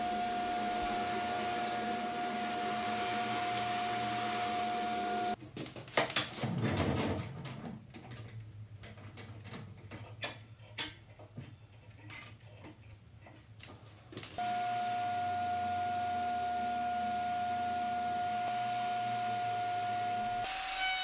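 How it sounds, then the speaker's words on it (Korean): Power tools cutting wooden side panels for a block tray box and routing an L-shaped groove along the bottom edge: a loud steady machine whine at start and end, with scraping, knocking handling noises between. "블록 트레이 박스 옆면 목재를 잘라주고 밑판과 조립하기 위해 하단 모서리를 기역자 홈으로 파냅니다"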